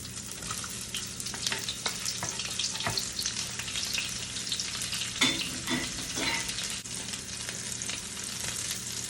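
Garlic and onions sautéing in a pan for traditional pancit bihon, a continuous bright sizzle with scattered crackles and occasional scraping stirs, close and steady throughout with no talk.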